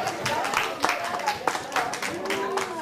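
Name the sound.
congregation applauding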